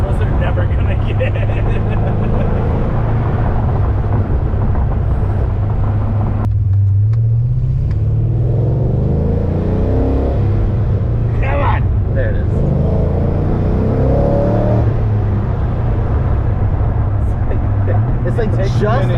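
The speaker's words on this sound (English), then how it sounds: "It clearly sounds like a V8." An LS V8 engine swapped into an Infiniti G35 car while driving, a deep steady rumble with rising and falling revs, heard from inside the car under people talking.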